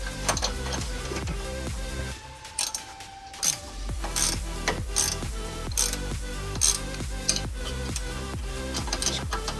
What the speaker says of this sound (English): Keep cranking until it pops.